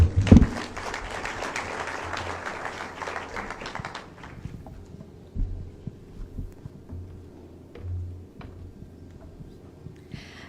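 Audience applause after a speech at an ABSA Foundation event: a burst of dense clapping for about four seconds that cuts off, followed by scattered low thumps and quiet room noise.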